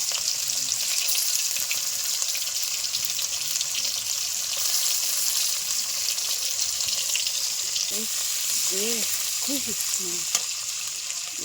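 Chopped onions fry in oil with black cumin and ajwain, making a steady dense sizzle with stirring underneath. A soft vocal murmur rises briefly near the end.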